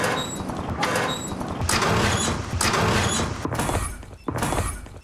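A door opening and closing in the Warzone video game, with several broad scraping and thudding bursts over a steady game ambience and a sharp knock near the end, close and fairly loud.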